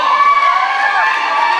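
Crowd cheering and shouting at a roller derby match, a loud sustained wash of voices with high-pitched yells and whoops, close and continuous.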